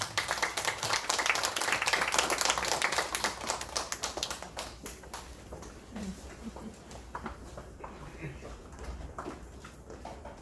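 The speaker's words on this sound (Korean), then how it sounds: "네, 우리 박수로 환영합시다." A congregation at a missionary's testimony meeting claps in welcome, loud and dense at first, then thinning into scattered, separate claps over about ten seconds, with faint voices and shuffling underneath.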